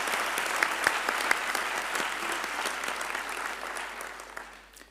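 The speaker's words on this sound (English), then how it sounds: "they deserve a thunderous applause" Sustained audience applause at a university graduation ceremony in a hall, a broad wash of clapping with a few sharper claps, gradually fading toward the end.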